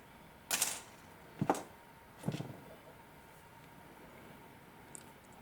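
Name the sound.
cutting pliers trimming round wire on a pendant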